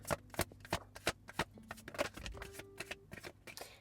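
A tarot card deck being shuffled by hand, with a quick run of crisp riffling and flicking card snaps, close and fairly quiet, with no talk.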